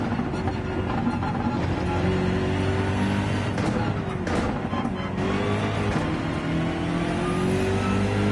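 A BMW race car in the Gran Turismo racing game roars continuously, its engine revving and shifting pitch as it accelerates through a weekly race, loud and close with no voices.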